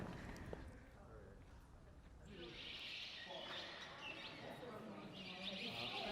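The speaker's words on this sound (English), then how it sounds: "There's a whole bunch of birds out here that are freaking nuts." Birds chirp in busy bursts outdoors at the natural entrance of Carlsbad Caverns, bright calls coming in clusters over a quiet background, faint and somewhat distant.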